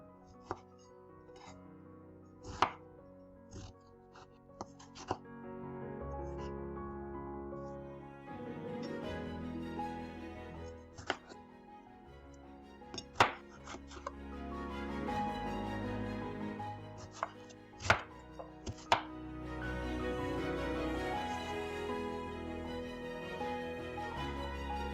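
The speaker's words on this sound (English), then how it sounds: "Going to cut our strawberries." Strawberries being chopped with a knife on a board, a series of sharp, irregular cuts over soft background music, close and fairly quiet.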